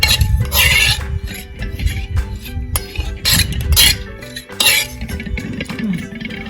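Cucumber raita stirred together with buttermilk and lemon in a bowl, a steady run of clinks and scrapes from a spoon against the dish, fairly close and continuous with no talking.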